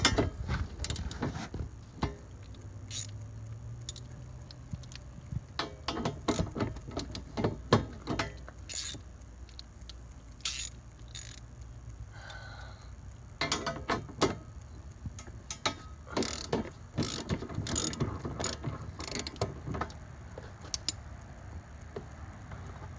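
A socket ratchet backs 10mm bolts out of the rack on a 2013 Honda Recon ATV, with bursts of quick close clicking separated by short pauses and no talking.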